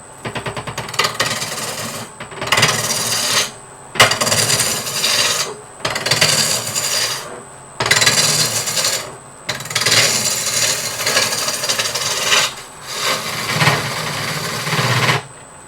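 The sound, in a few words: woodturning cut with the Big Ugly skew tool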